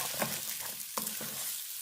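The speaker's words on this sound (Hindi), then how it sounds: "और अब हम इसको अच्छे से मिक्स करते हुए इसको पका लेंगे।" A thickening mixture is stirred and cooked in a pan for a quick, healthy breakfast, giving repeated close scraping strokes over a steady soft sizzle, with no talk.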